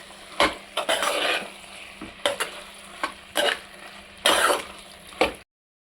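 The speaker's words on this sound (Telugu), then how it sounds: "అవి ఇందులో వేసి కలిపేస్తాను ఫ్రెండ్స్" Okra fried earlier in oil is stirred into a tomato curry in a pan, giving several scraping, sizzling strokes in bursts with short pauses, close and fairly loud.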